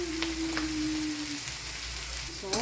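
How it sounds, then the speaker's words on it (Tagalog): Pork innards sizzle and fry in a pan for dinuguan, a steady close crackling hiss throughout with a faint tone running underneath during the first half. "pwede na natin ilagay yung ating lamang loob"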